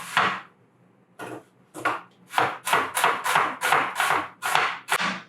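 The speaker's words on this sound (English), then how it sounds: "So I'm going to be cutting these onions in really tiny dices." A kitchen knife dices onions into very small pieces on a cutting board, giving a series of sharp, close chopping strokes in a steady rhythm after a few separate cuts, with no talking.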